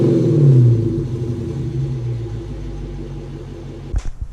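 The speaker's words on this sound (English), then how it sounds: "I basically have JBA Shorty Headers with a Borla exhaust with the cat still on it" Dodge Charger R/T V8 with JBA shorty headers and a Borla exhaust, catalytic converter retained, gives a loud, deep idle rumble that settles steadily, ending with a brief sharp knock near the close.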